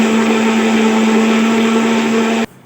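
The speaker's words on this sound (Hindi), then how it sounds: "जब तक अंडा अपने आप से डबल ना हो जाए तो तब तक इसे ब्लेंड करेंगे" An electric blender whirs steadily at high speed with a strong constant hum while beating eggs for fruit cake, loud and close, then cuts off sharply near the end; no talking.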